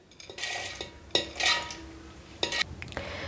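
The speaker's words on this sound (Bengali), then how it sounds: "এখন আমি এই মুগ ডালটাকে একটা মিক্সিং জারের মধ্যে দিয়ে দিচ্ছি।" Soaked, drained mung dal going into a mixer jar, heard as a few short clinks and scrapes of a spoon against the jar, coming in quick bursts close by with no talking.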